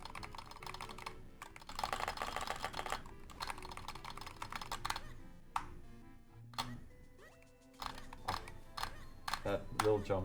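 Computer keyboard typing used to control a Nintendo Switch game, The Minish Cap, through an adapter: bursts of quick, close key clicks separated by short pauses, with someone talking in places.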